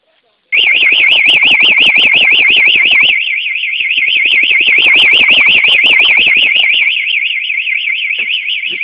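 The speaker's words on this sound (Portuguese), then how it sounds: "Vou disparar o alarme da moto da Manu agora." A loud motorcycle alarm blares right up close, a rapidly warbling electronic siren that sounds continuously, over a fast rattling pulse that drops out partway.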